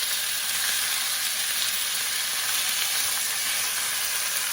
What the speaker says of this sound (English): You can get that sear on there.